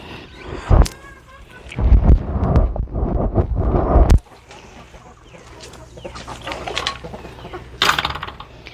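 Chickens cluck and squawk inside a dim coop, loud bursts of fowl calls rising then giving way to quieter scattered clucks, with a sharp knock or two.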